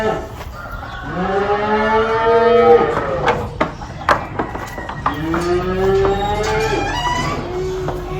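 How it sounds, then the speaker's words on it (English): A cow at a stockyard moos twice, long and loud, with drawn-out low bellows close by; faint farmyard noise and a few clicks fill the gaps. "there's a cow up there in the hay."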